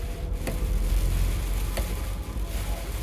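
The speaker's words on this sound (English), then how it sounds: "Sorry about the rain, we'll be through this in a minute." Steady rain falls outdoors as a continuous hiss with a low rumble underneath, broken by a couple of brief sharp ticks.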